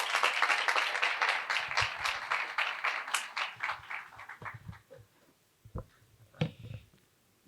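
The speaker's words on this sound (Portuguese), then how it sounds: "Uma salva de palmas para a Andressa" An audience applauds a guest author at an evening talk event in Paracatu, with dense clapping that starts strongly and thins out over several seconds into a few scattered claps.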